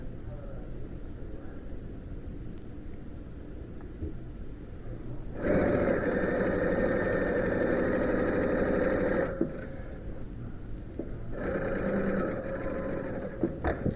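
A serger sewing machine seam-locks fabric in two steady bursts, the first about four seconds and the second shorter after a pause. The hum is loud and close over faint room noise, with no talking.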